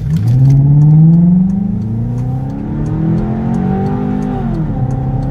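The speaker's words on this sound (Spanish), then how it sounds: "El motor W8 del Passat es una joya compacta y suave que produce un sonido único en la carretera" A Volkswagen Passat W8 engine runs steadily and close, with a smooth rising drone that swells early then holds an even hum with slight pitch shifts.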